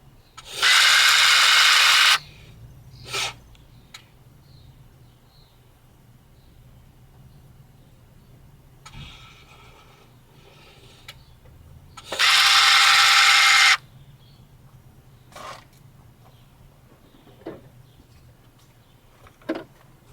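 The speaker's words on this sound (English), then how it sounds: "I got the little motor hooked up here. Let me go in there and cycle that switch" A small 4x4 axle disconnect actuator motor from an Envoy/Trailblazer cycles in two short, bright whirring bursts several seconds apart, with faint clicks and rattles in the quiet gaps between.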